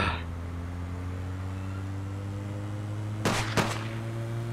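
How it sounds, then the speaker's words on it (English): Gunfire in the video game APB Reloaded: two quick, sharp shots close together over a steady low electronic hum. "She's shooting at someone"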